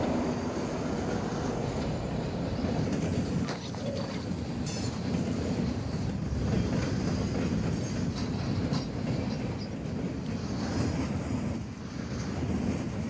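A train rolls past in Call of Duty DMZ, a loud, continuous rumble with rattling wheels and occasional metallic squeals and clanks, holding steady for many seconds.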